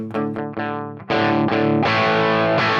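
Electric guitar through a Fractal AX8 with the amp boost kicked on: a few gritty, distorted strummed chords with short gaps, then a louder, brighter and more saturated chord that rings out close and alone.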